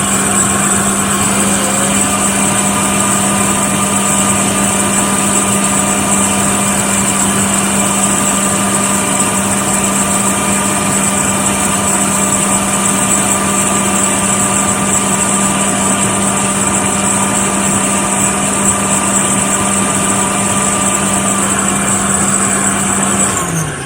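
A Rainbow D3 canister vacuum runs steadily with its cap off, giving a loud, continuous motor whine and airflow roar with a constant hum that holds unchanged throughout.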